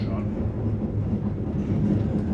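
Train at a railway station near Hegyeshalom, Hungary, giving a steady low rumble and hum that stays close and even for a couple of seconds, with faint talk underneath.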